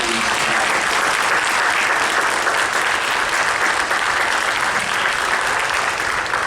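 Loud, thick applause rolls through an auditorium for THS 2025 Hall of Fame inductees, with many hands clapping at once in a steady, unbroken wash.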